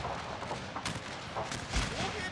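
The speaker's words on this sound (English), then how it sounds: "Artillery firing down the hill." Distant artillery booms and rumbles during a Civil War battle video game recreating the 1864 Battle of Franklin, with a dense wash of battle noise and scattered thuds over a couple of seconds.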